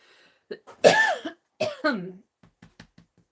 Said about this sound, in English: Excuse me, I've got this cough.